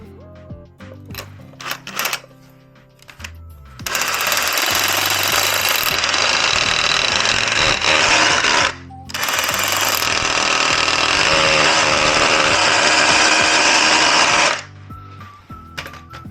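A hammer drill bores into a home wall while a connected thermostat is being installed, giving two long, loud, harsh bursts of rapid pounding separated by a short pause, with lighter handling clatter before and after.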